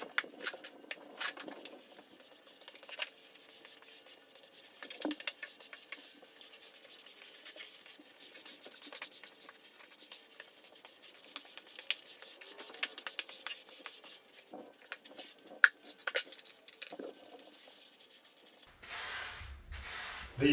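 Grout being rubbed by hand into the tile joints of a bathroom floor: close, soft scraping and rubbing strokes, steady and fairly quiet, with a brief louder shuffle at the end.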